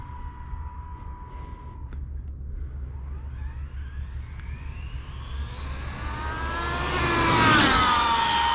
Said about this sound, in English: Yeah, when I go full throttle, it stops.